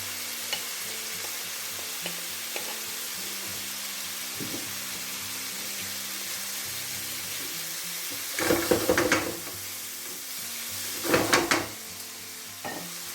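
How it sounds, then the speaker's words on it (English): Chorizo and red onion frying in a pan, a steady soft sizzle with two louder bursts of stirring and scraping partway through. "now we can go back in with our chorizo and our red onion"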